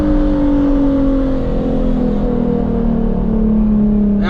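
An Infiniti G37 coupe with a full titanium Tomei exhaust revs loudly and close by. Its droning engine tone holds at high volume, its pitch drifting slightly as the revs change, with no talking.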